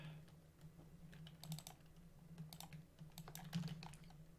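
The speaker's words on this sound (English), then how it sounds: "you all probably don't want to see me typing creation code into a bunch of buttons for the millionth time today" Rapid, irregular clicks of someone typing on a computer keyboard while coding a game's settings menus, close and fairly quiet over a steady low electrical hum.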